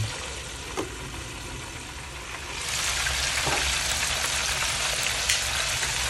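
Kanto-style fried chicken frying in oil, a steady crackling sizzle that grows noticeably louder and denser partway through, with no talking.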